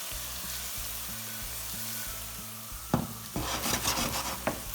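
Chili sizzles gently in hot oil in a pan while aloo gobi, a potato and cauliflower curry, is being cooked. A soft, steady frying hiss runs close by, with a few sharper crackles and pops toward the end.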